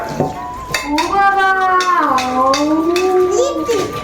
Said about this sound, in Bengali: আমি মাংসটা নাড়ছি আর ও বাসন মাজছে